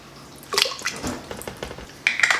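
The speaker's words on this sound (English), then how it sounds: "So I've just got some canned puree here I'm adding." Canned tomato puree goes into broth in a kitchen pot with soft, wet plops and drips, a few louder splashes near the start and again toward the end, heard close up with no talk.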